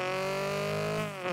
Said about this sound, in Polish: co różni te samochody, a mianowicie dźwięk silnika